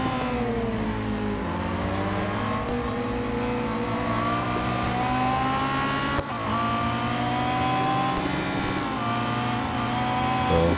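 GT race car engines in Real Racing 3 on a final lap, including slower GT4 cars such as a Camaro, droning continuously with rising and falling revs and gear shifts, close and loud with no talk.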